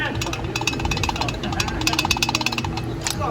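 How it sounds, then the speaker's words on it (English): An alignment tool is shaken by hand inside a torqued Exedy twin disc HD clutch pressure plate on a Mitsubishi Evo 9 MR, giving a rapid, continuous metallic rattling and clattering up close throughout. "Now with the alignment tool, you can still shake it around"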